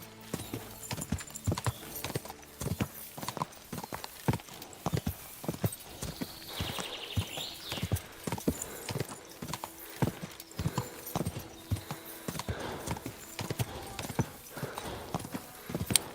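Horse hooves pound in a steady galloping clip-clop in Kingdom Come Deliverance 2, loud and close with sharp repeated strikes throughout, and a brief whinny-like cry partway through.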